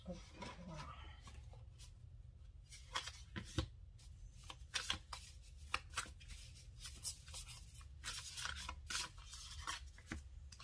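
Tarot cards are gathered and shuffled, with soft rubbing and riffling scrapes rustling in quick, uneven bursts at close range and low volume.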